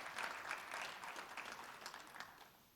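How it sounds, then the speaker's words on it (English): Audience applause at a high school fall sports banquet, a steady wash of many hands clapping at moderate distance that slowly tapers over a few seconds, with no voices. "So give him a round of applause for that."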